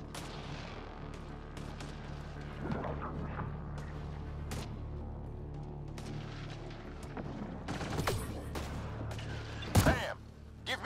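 Sci-fi gunfire from Mass Effect Andromeda as the player shoots aliens, a steady stream of shots and blasts over a low rumbling game soundscape, with a louder burst of explosions near the end.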